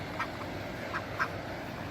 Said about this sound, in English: I just came outside and we saw a mother with her little baby ducks